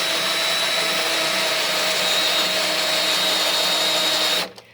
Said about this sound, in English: I've used a pilot drill, a 2mm pilot drill, just to put a little divot where I'm going to be drawing spot welds